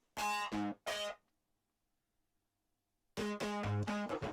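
Two short bursts of a bright, buzzy synth lead with a gritty, vocal-like formant color, separated by silence, played alone and fairly quiet.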